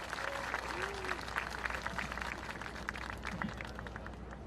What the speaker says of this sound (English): Let's hear a round of applause for Shana.